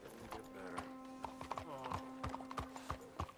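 Horse hooves clip-clop at a steady walking pace in the video game Red Dead Redemption 2, with a low hum and faint background noise, fairly quiet overall.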